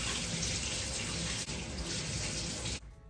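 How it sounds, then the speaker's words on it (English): Cold tap water runs steadily and loudly close by as pink hair dye is rinsed out of hair, then stops abruptly near the end. "So I'm rinsing it out in the coldest possible water."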